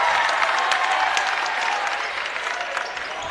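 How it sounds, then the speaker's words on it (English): Boys basketball fans at a sectional championship between Carmel and Fishers, a continuous roar of clapping and crowd noise filling the gym, steady and loud without clear speech. "The red and white fans over here cheering on their Tigers defense."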